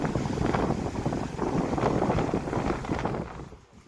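A high-speed electric fan on display in a shop blows a steady broadband rush of air with no rattle or hum, fairly loud and continuous before fading near the end.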